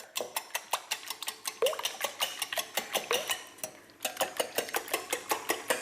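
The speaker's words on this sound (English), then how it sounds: "I have some eggs here that I'm gonna whisk together." Eggs are whisked together in a bowl, a quick, regular clatter of metal tapping against the dish, close and crisp, briefly pausing near the middle before resuming.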